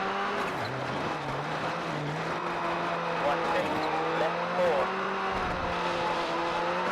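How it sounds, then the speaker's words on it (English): A Skoda rally car in the WRC World Rally Championship game races over gravel, its engine holding a steady buzzing drone with pitch shifts as it revs and changes gear, under a constant rush of tyre and surface noise. "so we're in the Skoda now. Certainly sounds different. And we're on gravel now instead."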